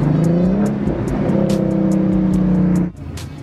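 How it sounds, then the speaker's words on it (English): A 3.7L Mustang on Mickey Thompson tires spins its wheels in first gear during cold-night street racing. The loud, close engine holds a high droning rev for nearly three seconds, then abruptly drops off. "First gear is so useless right now, just spinning."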